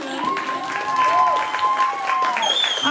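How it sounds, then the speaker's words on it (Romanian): Wedding guests at a reception in Dublin applauding the parents, clapping and crowd noise running under a loud amplified singing voice and sustained music tones throughout. "Aplauze să se audă!"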